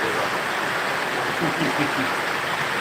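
Steady, dense wash of heavy rain in Sirajganj, Bangladesh, loud and close, with a faint low murmur of movement underneath.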